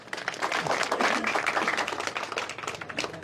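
A crowd at a village gathering in Ghubaya, Jalalabad, Punjab, claps and applauds steadily for a few seconds, dense and lively, with no voices on top.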